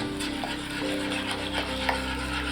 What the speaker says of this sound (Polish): Cały czas mieszam zupkę jak wlewam.